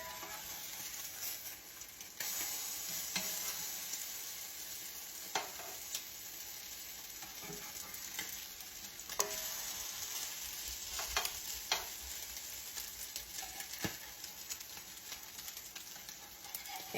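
Gluten-free salmon patties, six in one pan, frying with a faint continuous sizzle and crackle, punctuated by occasional light clicks and taps throughout.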